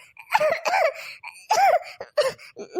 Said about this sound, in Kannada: ನೋಡಿದ್ಯಾ ಹೆಂಗೆ ಕೆಮ್ಮು ಬರ್ತಿದೆ